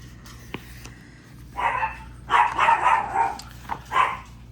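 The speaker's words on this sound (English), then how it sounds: "The dogs are barking, so I gotta go." Several dogs bark in short bursts, a brief yip followed by a run of loud, overlapping barks and one final bark, fairly close, with no talking.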